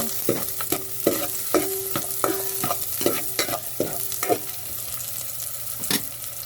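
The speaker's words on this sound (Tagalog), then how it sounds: "Haluin natin." Onion and garlic stirred in a cooking pot for Filipino pork nilaga: rhythmic spoon scrapes and clacks, about a dozen strokes, over a soft steady sizzle, close and without talk.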